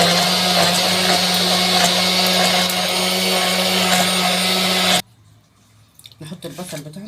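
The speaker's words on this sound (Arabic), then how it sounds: "هنضرب الشبت بالميه في الخلاط" A blender blending dill with water roars loudly and steadily for about five seconds, then cuts off abruptly, leaving quiet clinks and a voice speaking afterward.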